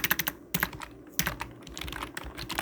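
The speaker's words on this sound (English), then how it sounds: "In this text box, we'll need to type in" Rapid bursts of keystrokes on a computer keyboard, close and crisp, with short pauses between runs of clicking and no voices.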